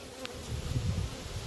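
Honey bees hum steadily as a beekeeper brushes them off a hive frame, a dense, close buzzing swarm sound that swells slightly midway and continues without any talking.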